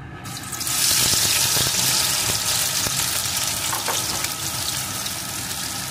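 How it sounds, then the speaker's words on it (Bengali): Marinated okra hits hot mustard oil in a pan and bursts into a loud, steady hiss of frying that carries on evenly with faint crackles, no voices over it. "এখন ভেন্ডিগুলো আমি সুন্দর করে ভেজে নেব, একদম লাল লাল করে।"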